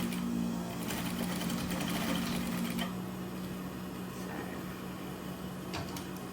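A home sewing machine runs in a steady, fast whir while stitching Christmas stockings, close and fairly quiet, then drops to a softer hum partway through with a few light clicks.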